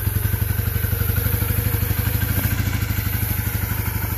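A small engine running on its first start after a carburetor cleaning. It idles loud and close in a fast, steady pulsing rhythm with a slight stutter and some rattling clatter.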